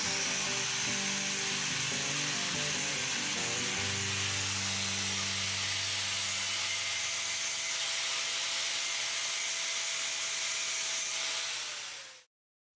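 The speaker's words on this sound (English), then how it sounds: "I use my chop saw to cut the slots in the conduit pieces." Chop saw cutting slots in metal conduit pieces: a continuous loud whining roar with shifting pitch, running alone for about twelve seconds before cutting off abruptly.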